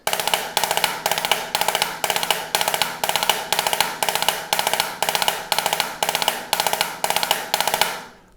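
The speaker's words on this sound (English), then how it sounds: "today we're going to do the 5-stroke roll" Snare drum five-stroke roll rudiments, two doubles and a single, repeated in a steady even pattern, each quick burst of strokes ending with an accent, crisp and close, no talking.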